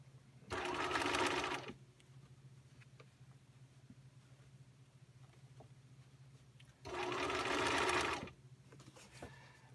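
Two short, close bursts of a home sewing machine running at its top speed, each a dense, even whir lasting about a second, separated by a quiet stretch with low background hum.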